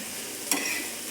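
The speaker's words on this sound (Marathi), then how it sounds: "तर आता हे मी व्यवस्थित परतून घेते." Sliced bitter gourd with turmeric and spices sizzles in an oiled pan as it is stirred, a soft, steady frying hiss with one brief scrape of the spoon partway through.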